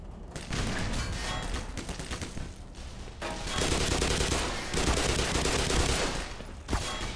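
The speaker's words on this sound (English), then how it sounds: "they're throwing grenades at me" Enemy soldiers lob grenades amid bursts of gunfire in the Black Mesa remake of Half-Life, a dense, sustained barrage of shots and blasts that stays loud for several seconds with a brief lull in the middle.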